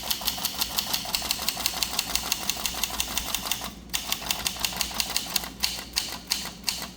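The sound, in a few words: 1896 Williams 3 typewriter printing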